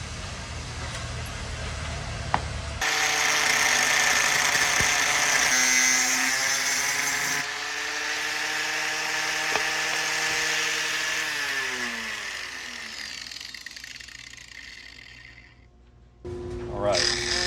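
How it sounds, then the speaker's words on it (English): A power tool cuts through threaded ready rod in a long, loud, whining grind that drops in pitch as the cut goes on, then stops and starts again briefly near the end. "I'm gonna cut up 2 pieces of ready rod and send through here"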